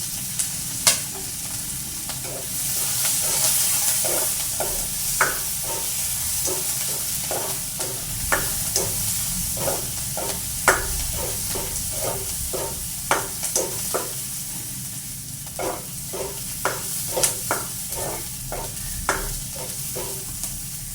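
Onions and green chillies fry in hot oil under a low, continuous sizzle, while a spatula taps and scrapes the pan in frequent, irregular strokes.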